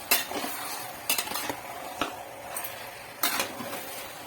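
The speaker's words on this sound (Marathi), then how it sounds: "असं पूर्ण हलवून घ्यायचं आपल्याला" Onion, tomato and masala for chicken being stirred in a pan, with a spoon scraping and clinking against metal in irregular bursts over a soft sizzle underneath.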